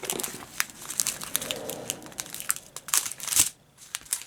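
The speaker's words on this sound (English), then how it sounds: "Let me cut that out of the packet so we can see it easy." Scissors cutting a thread card out of a crinkly plastic packet, close and fairly quiet, with irregular crinkling, snips and rustling throughout and no talk.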